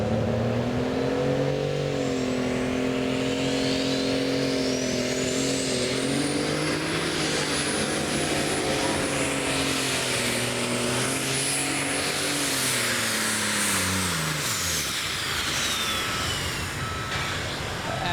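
A light super stock pulling tractor with a turbocharged engine roars loudly and steadily during a run at a Pro Pulling League event, with a high turbo whine climbing and then falling away.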